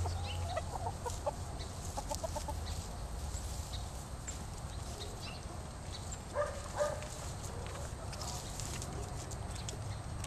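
Chickens cluck and chatter softly over a steady outdoor background, with a few louder calls standing out now and then.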